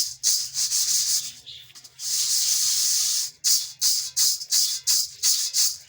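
Roasted wheat grains and sand are shaken in a kitchen strainer, giving loud, gritty hissing swishes in long bursts that break into a series of shorter rhythmic shakes toward the end.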